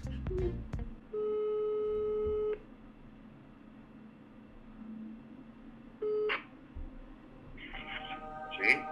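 Telephone ringback tones on a live phone call, two long steady beeps followed by another shorter one and a faint ring at the end, with quiet background noise between.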